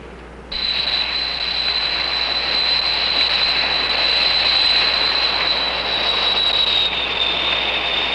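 A jet aircraft engine starts up, a sudden loud rise into a steady roaring whine with a high piercing tone that holds and shifts slightly near the end; no talk.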